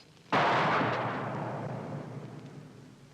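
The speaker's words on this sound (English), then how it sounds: "One slip onto the primer cap will fire the round" A live ammunition round fires with a single sharp, loud report that cuts in suddenly, then a rumbling echo decays slowly over the next few seconds, with no voices.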